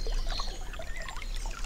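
Light splashing and trickling from a small waterfall in the video game StoneQuest, a soft steady bubbling patter of water with no voices.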